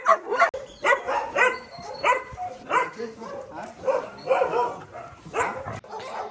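A dog at an animal shelter barks repeatedly and close by, in a quick series of sharp barks and yips with short gaps between them.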